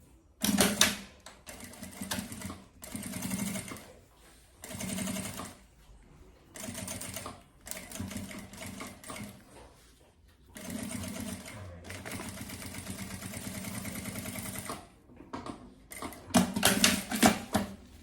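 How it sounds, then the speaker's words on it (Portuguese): A sewing machine stitches fabric for a travel carry-on bag, running in loud, close, rapid whirring bursts separated by short pauses across the whole stretch. "E a gente vem aqui fazendo a primeira costurinha de fixar esse material aqui."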